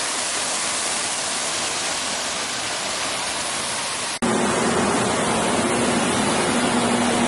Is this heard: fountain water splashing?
yes